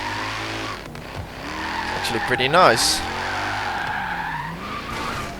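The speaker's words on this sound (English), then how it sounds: "it actually does skids pretty well for a stock car" Tires of a stock Alfa Romeo 8C squeal and skid in Forza Horizon 3, a loud wavering screech over a steady engine drone, with someone talking over it.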